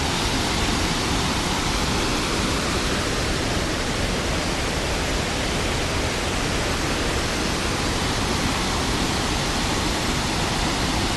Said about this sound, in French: Alors, on est vraiment au pied de la cascade.